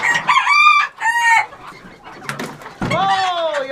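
Chickens and a rooster cluck and squawk loudly and close by in a winter coop, with bursts of harmonic calls at the start and a long drawn-out squawk near the end.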